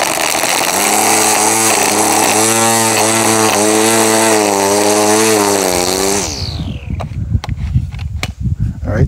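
A Hart 20V cordless 13-inch string trimmer whines at steady high speed while trimming and edging, its pitch wavering under load, then winds down and stops, leaving a few clicks and handling knocks.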